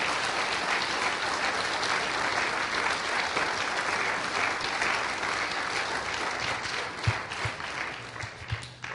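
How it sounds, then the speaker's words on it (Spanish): A church congregation applauds loudly and steadily during a sermon, dense continuous clapping filling the room for several seconds, with a few louder thumps near the end and no speech over it. "Dale fuerte ese aplauso al Señor y alábalo."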